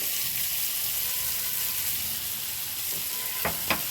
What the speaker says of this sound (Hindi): हल्का से इसको फ्राई कर लें